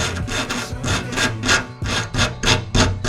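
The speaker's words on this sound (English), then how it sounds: "I usually just try to get most of the crust off sideways like this" Repeated back-and-forth scraping of crusty corrosion off a car trunk latch part, a steady rhythmic rasping with about ten strokes, loud and close, no talk.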